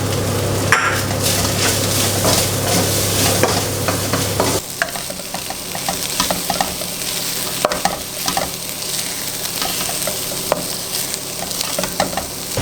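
Zucchini and cherry tomatoes sizzle in a hot pan, with a loud frying hiss that drops after a few seconds and then continues more softly under repeated scraping and clacking stirs of a utensil against the pan.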